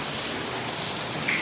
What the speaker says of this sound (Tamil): சென்னையில் கொட்டு கொட்டுன்னு மழை கொட்டுது.